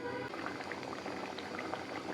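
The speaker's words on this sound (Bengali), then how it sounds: "মাছটা আস্তে আস্তে সেদ্ধ হচ্ছে।" Mustard hilsa fish curry simmers under a lid in a covered pot, giving a steady, close, dense bubbling and gentle boiling that continues evenly throughout.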